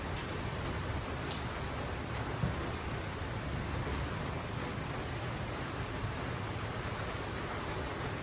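Hail outside makes an unbroken hiss of countless small impacts, even and steady throughout with no voices over it.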